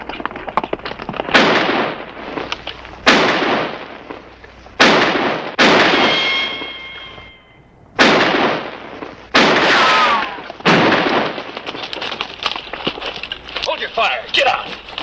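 Gunfire in a western shootout, a series of loud, sharp gunshots spaced a second or two apart, each with a long ringing decay, some bursts overlapping, close and dominant throughout.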